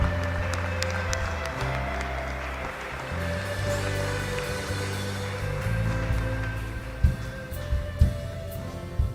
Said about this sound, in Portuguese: Dê uma salva de palmas a Ele em nome de Jesus.